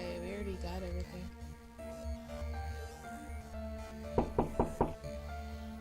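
Four quick knocks rap on a door in The Blackwell Legacy adventure game, evenly spaced and fairly loud over a steady droning musical background.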